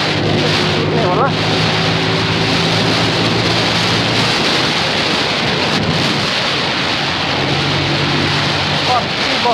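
Heavy rain pours down in a steady loud hiss while thunder rumbles low and long, with a passing vehicle engine droning underneath in the first half and again near the end.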